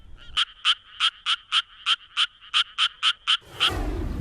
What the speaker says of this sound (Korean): 청개구리보다 더 높은 음을 천천히 내는 수원 청개구리